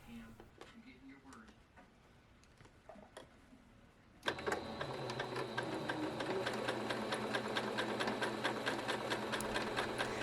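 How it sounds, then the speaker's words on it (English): After a few quiet seconds of faint handling noise, a sewing machine starts up and runs steadily, its rapid rhythmic stitching close and continuous as it sews a fabric pocket seam on boxers or pants. "sew from the top of the pocket to the bottom of the pocket"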